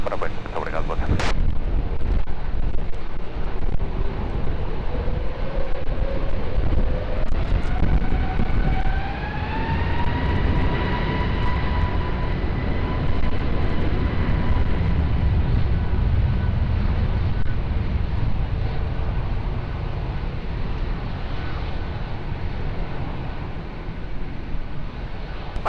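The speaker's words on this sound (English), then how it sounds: "Runway 20 clear for takeoff" A jet airliner takes off from runway 20 at Lisbon Airport, its engines roaring loudly throughout and rising in pitch as it powers up, with a sharp bang near the start.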